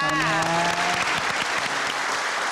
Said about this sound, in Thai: ขอเสียงปรบมือให้น้องหน่อยค่ะ